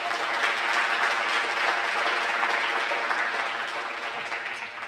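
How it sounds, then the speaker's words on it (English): An audience applauds steadily, dense clapping filling the room for several seconds before tapering slightly at the end. "So please give Tony a quick round of applause."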